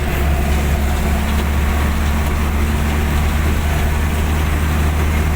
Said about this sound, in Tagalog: so ganda ang hatak ng makina